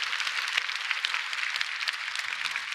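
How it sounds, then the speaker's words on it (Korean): A church congregation claps steadily at moderate loudness, a broad wash of many hands with sharper individual claps standing out. "우리 하나님께 영광의 박수 올려드립니다"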